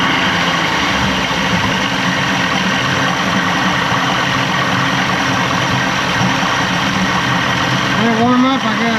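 1987 Johnson 150hp V6 outboard engine with a loss-of-power fault idling during warm-up, a steady low rumbling drone running throughout, close and fairly loud, with a voice speaking over it.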